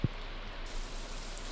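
Rain falls steadily in a video game, a soft, even hiss that stays faint and low throughout with no other sounds over it.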